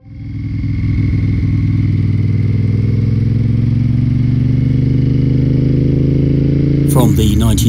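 A Moto Guzzi Tonti-frame V-twin motorcycle idles, its steady loud rumble holding close and constant before a short burst of clatter at the end.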